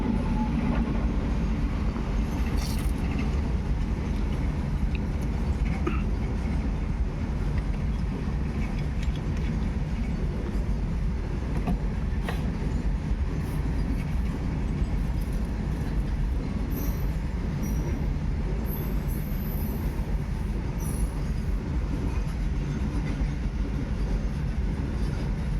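A goods train rolls past steadily for the whole stretch, its wagons producing a dense, continuous low rumble with rattling, clanking and occasional wheel squeals, loud and close without any talk.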